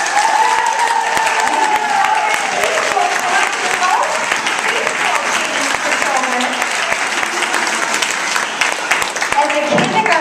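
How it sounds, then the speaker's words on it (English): A preschool class gets a loud, sustained round of applause in a school gathering, dense clapping from a large crowd throughout with scattered cheers and voices mixed in. "right now, give a big round of applause for Mrs."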